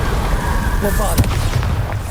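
A Bombarda blasting spell going off in the Hogwarts Legacy video game, a single deep boom with a bright crackling burst near the middle, over a dense, loud game soundscape.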